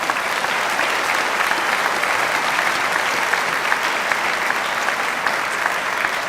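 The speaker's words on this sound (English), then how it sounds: "I'd like just one time just to give one round of applause to the entire" A banquet crowd gives the 2021 Smithson Valley Rangers football team a sustained round of applause, dense and even clapping filling the room at a steady level throughout, with no talk over it.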